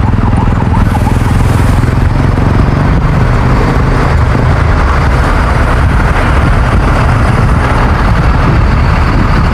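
A GHTS double-decker bus idles at a bus terminal, its engine a loud, continuous low throb close by, with busy terminal noise mixed in throughout.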